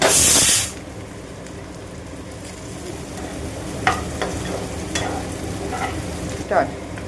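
Cashew nuts and melon seeds fry in hot oil, a steady close sizzle after a loud opening burst, with faint scattered pops and stirring clicks throughout.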